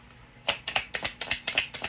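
Tarot cards being shuffled: seven quick crisp riffle bursts in an even rhythm, close and fairly loud, with no voice.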